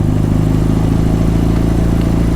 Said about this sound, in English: We're going into third gear now.